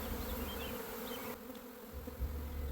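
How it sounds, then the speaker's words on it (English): A honey bee swarm of worker bees buzzing close by, a dense, steady droning hum that carries on without a break. "the worker bees are working their way into that cover super good"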